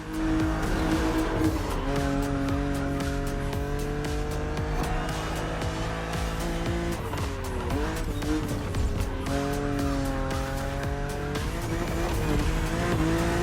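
A BMW drifts in The Crew Motorfest, its tires squealing steadily over a loud, sustained engine note that rises and dips through the slide, with no pauses across the whole stretch.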